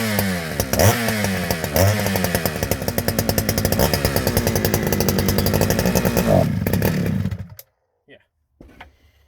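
A Dolmar 153 chainsaw running close up, revving up and down in several surges before settling into a loud, rapid, steady idle-to-throttle buzz that cuts off abruptly near the end, followed by a couple of faint knocks.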